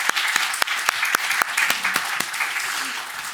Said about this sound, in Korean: 환영의 박수 한번 해주시죠.